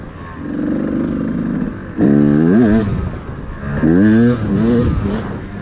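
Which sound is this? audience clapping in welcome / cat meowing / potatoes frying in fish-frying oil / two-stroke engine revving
two-stroke engine revving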